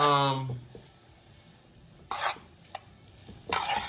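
Tomatoes stirred into a pot of cooking vegetables: a brief voice at the start, then quiet, followed by two scraping stirs with a light sizzle and a small knock between them, close by.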